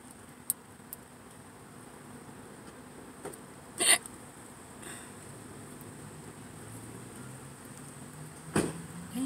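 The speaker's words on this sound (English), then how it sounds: "It's like hiccups and burps at the same time." Two short, sharp hiccups sound from someone sitting in a parked car in a Subway restaurant parking lot, spaced several seconds apart over a low, quiet car-interior hum.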